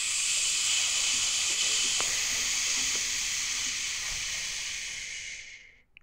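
A long, forceful hissing exhale from a yoga power-breath empties the lungs, a steady breathy sizzle held for several seconds before tapering off.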